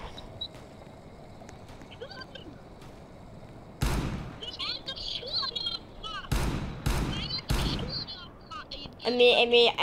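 Gunshots in a video game ring out as several sharp, loud bangs spaced irregularly, some in quick succession, mixed with game sound effects and players talking.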